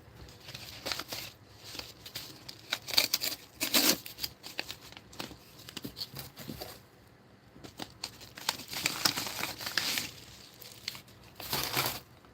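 Packaging from a mail-call box holding a single small envelope is torn open and unwrapped: close, loud bursts of crinkling, rustling and ripping come in uneven clusters, with no talking.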